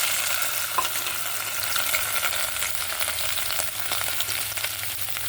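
Pre-boiled chicken frying in a little oil, being dried out in the pan for chicken soup; a soft, continuous sizzle with light stirring, fairly quiet and steady.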